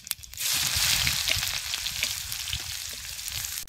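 Finely chopped onion hits hot oil tempered with cumin seeds in a pan for egg bhurji, bursting into a loud, close, continuous sizzle with a few stirring clicks and no talking.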